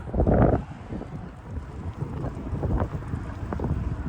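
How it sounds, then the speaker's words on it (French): Gusty wind buffets the microphone in a loud rush at first, then keeps roaring and fluttering unevenly outdoors with no voices. "J'espère que le vent n'embête pas trop parce que ce matin ça souffle."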